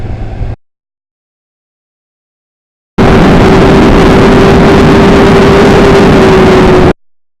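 Steady engine drone from a 2013 Kawasaki Ninja ZX6R 636 sport motorcycle on a test ride, loud and continuous for about four seconds after a brief burst of noise and a silent gap.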